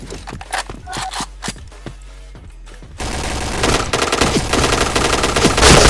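Rapid video-game gunfire landing chained headshots, a dense burst of loud close shots that turns into continuous heavy automatic fire in the second half.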